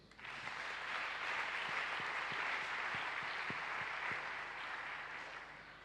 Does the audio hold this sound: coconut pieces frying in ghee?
no